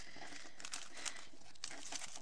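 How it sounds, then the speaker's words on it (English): Nail sticker sheets rustle and crinkle as they are shuffled aside, a few soft crackling bursts of thin plastic and paper, close and fairly quiet with no voices. "Let me just move all my stickers off to one side."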